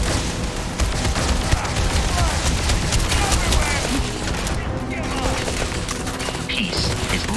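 A grenade blast and a dense barrage of gunfire rage during a Starfield space-combat firefight on Xbox Series X, loud and continuous with rapid overlapping shots and booms throughout.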